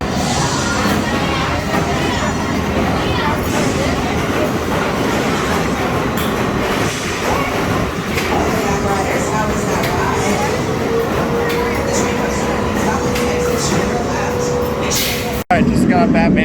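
Ride noise from Batman the Ride, a suspended roller coaster at Six Flags Great Adventure: a steady, loud rumble and roar of the train on the track through the whole stretch, with an abrupt break near the end.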